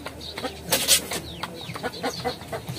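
Aseel chickens in a backyard give short, scattered clucks and calls at close range, with wing flaps and rustling mixed in over a quiet outdoor background.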